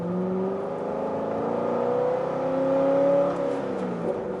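A Corvette Grand Sport with an aftermarket exhaust revs steadily, its engine tone climbing and holding loud and close before easing off, with no talk over it.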